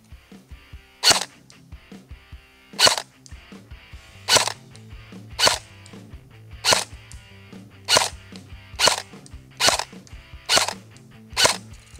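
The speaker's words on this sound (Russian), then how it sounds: "Одиночный режим стрельбы." An LR300 Short A&K airsoft rifle fires single shots at targets: about ten sharp, loud cracks spaced one to one-and-a-half seconds apart, each followed by a faint mechanical clack, with no talking.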